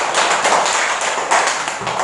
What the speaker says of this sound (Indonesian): Oke, tepuk tangan dulu untuk mereka.